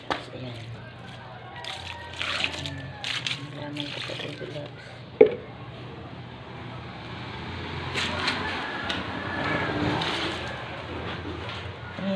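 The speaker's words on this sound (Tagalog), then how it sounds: "Yung pinagsaingan, lalagay sa halaman." Leftover rice-cooking water poured onto potted plants, a soft running splash and trickle with a sharp knock midway, moderately close, with a voice speaking over parts of it.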